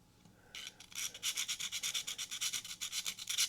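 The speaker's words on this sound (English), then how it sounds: "and sharpen that gut hook" A Leatherman multi-tool gut hook is drawn repeatedly across a sharpener, giving a quick, steady series of close rasping strokes, about twenty in a row, with no talk.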